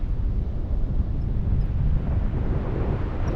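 Wind rushing past a 16m Susi mini paraglider in flight over treetops near Chamonix, France: a loud, constant low roar buffeting the microphone with no break.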